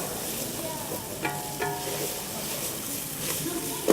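Vegetables cooking down in a pan make a soft, steady sizzle with occasional stirring scrapes, fairly quiet and continuous with no talking.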